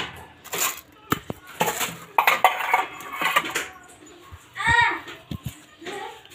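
Metal dishes and utensils clink and clatter as they are gathered for a meal at home, in scattered bright knocks and jingles mixed with the voices of people and children talking nearby.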